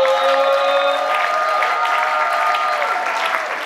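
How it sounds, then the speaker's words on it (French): A church audience applauds steadily during a French-language Christian television programme, the dense clapping filling the room for several seconds alongside faint sustained tones from music or a keyboard. "Alors, Gracien, Joveli, est-ce qu'on peut l'applaudir une fois de plus, mesdames et messieurs?"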